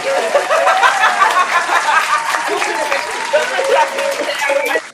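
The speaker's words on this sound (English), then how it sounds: "I want the clapping machine." A clapping sound effect plays on a talk-show sofa set, a dense burst of applause with light chuckles mixed in, running steadily before cutting off abruptly.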